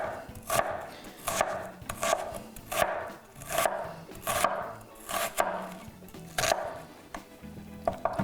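A large amount of garlic being chopped on a board for shakshuka, about a dozen sharp knife strikes in a steady, slightly uneven rhythm, close and fairly quiet, with no talking.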